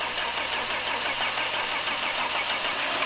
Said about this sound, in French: Il a fallu solliciter le démarreur pendant 35 secondes avant que l'huile arrive aux premières cames.